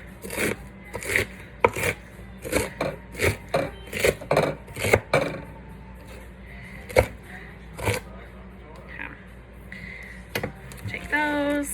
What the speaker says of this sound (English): I'm gonna say probably about a cup, once I chop it, of iceberg lettuce